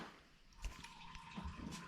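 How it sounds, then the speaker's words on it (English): Antifreeze from a 1968 Chrysler Newport radiator trickles into a bucket below, a faint, steady splashing stream with a few soft knocks and thumps over a low background hum. "That would be the antifreeze draining into a bucket down there"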